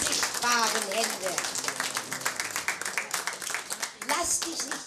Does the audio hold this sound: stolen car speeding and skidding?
no